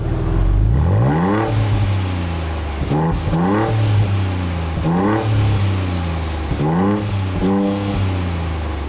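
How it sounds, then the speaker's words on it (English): Dual exhaust of a 2023 Ford Bronco Raptor set to Baja mode, blipped in a series of sharp revs that rise and fall over a deep idle, loud and near with no talking. "And now take a listen in Baja mode."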